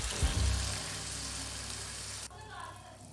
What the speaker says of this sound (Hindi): आपने इसको लो फ्लेम पे फ्राई करना है, ज़्यादा फ्लेम हाई करेंगे तो ये जल जाएगी।